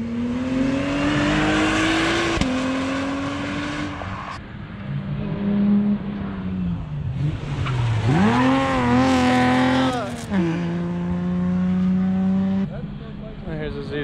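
A Z sports car on a lap at a Cars & Coffee meet revs hard and loud up through the gears, with its pitch dropping at each shift before climbing again, and voices in the background.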